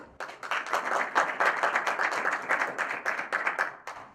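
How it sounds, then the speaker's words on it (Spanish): Audience applause for a speaker at a Python conference in Mexico, a dense, steady burst of many hands clapping that swells and holds for several seconds before tapering off. "les pido un aplauso"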